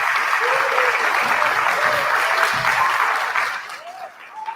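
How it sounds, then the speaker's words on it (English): A school debate audience gives the students a full round of applause, dense and even at first, then thinning and fading toward the end, with a voice faintly audible under the clapping. "Can we give them a round of applause?"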